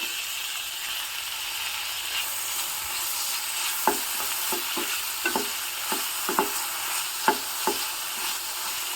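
Onion and a small tomato fry in a pan with a soft steady sizzle, while a spoon stirs and scrapes against the metal in a string of brief, irregular clinks.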